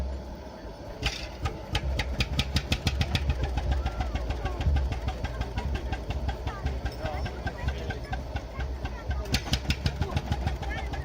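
An old Lanz Bulldog tractor engine idles with a steady, low knocking chug, running continuously with some irregular mechanical clatter.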